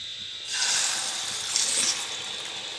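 Beaten eggs poured into hot oil over a low flame for dhaba-style egg bhurji set off a soft, sudden rush of hissing sizzle after a brief quiet moment, then settle into a steady frying hiss.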